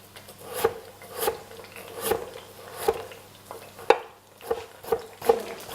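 A knife slicing potatoes thinly on a board, about a dozen sharp, evenly spaced cuts in a steady rhythm, close and clear with no talking.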